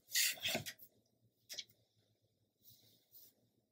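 A wood strip is trimmed for a handmade mini album, with a short burst of rough rubbing and rasping scrapes, a quick second stroke, then a softer scrape, close and isolated.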